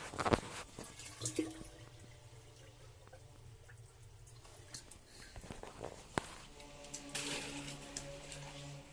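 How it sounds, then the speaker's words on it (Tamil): Fish-tank water runs and splashes in short bursts as it is poured, with some clinking and handling noises, fairly close and quiet, with no talking. "இப்போ வந்து கொஞ்சம் மீன் தண்ணியும் ஊற்றுறோம்."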